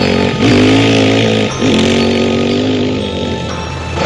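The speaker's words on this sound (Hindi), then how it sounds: "इतना कहने के बाद बाबा अपनी सुपर बाइक से गुल्ली बुल्ली और सोन के पास जाने लगते हैं" A superbike engine drones loudly and steadily, rising in pitch as it pulls away, with one brief dip and re-rev midway and no talk over it.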